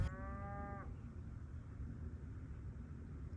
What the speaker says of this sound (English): So yes, that was a cow.